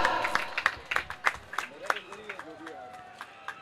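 Spectators at a children's cricket match clapping after a six, a scattered ragged patter of hand claps from a modest crowd, fairly faint and thinning out over a few seconds.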